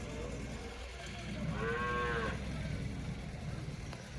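Calf mooing at the Vaniyambadi cattle market, a single drawn-out call lasting about a second, heard over steady crowd and market background noise.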